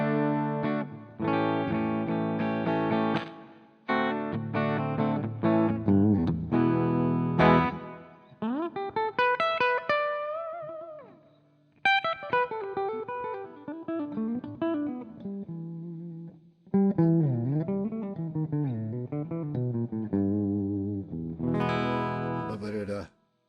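An electric guitar on the bridge pickup with a clean tone, picked with a thin gray Dunlop pick: a series of ringing chords and single-note phrases with bends and slides, separated by short gaps.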